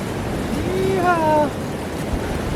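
High wind blows hard around a treehouse roof frame, a dense continuous roar of gusts against the microphone, with a brief voice sounding over it.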